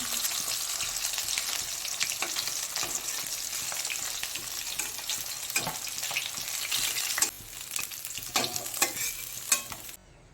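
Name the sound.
fish frying in oil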